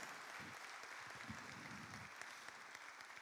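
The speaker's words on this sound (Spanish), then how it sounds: "Dale un fuerte aplauso al Señor." Applause from a church congregation at a Father's Day service, a steady dense clatter of many hands filling the space at a low, even level from start to finish.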